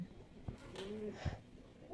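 Pakistani high-flyer pigeons in a loft in Khulna, including a paired couple with new eggs: a faint, soft cooing close by over low background noise.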